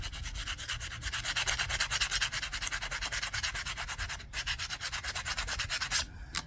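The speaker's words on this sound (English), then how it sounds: "you just turn the sandpaper sideways just to clean up that section there without scratching" Sandpaper rubs back and forth over a cork fishing rod handle in steady, quick strokes, a close, dry scratchy rasp repeating rhythmically with a brief pause near the end.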